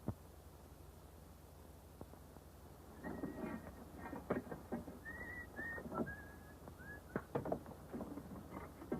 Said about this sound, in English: Hey, cut out that whistling.